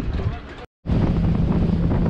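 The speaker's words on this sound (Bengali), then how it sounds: "আমরা উঠে পড়লাম আমাদের বোট বাবুল বাউন্সারে" Loud, rushing wind and water noise from a motorboat ride to Elephant Beach on Havelock Island, briefly cut by a moment of silence before resuming.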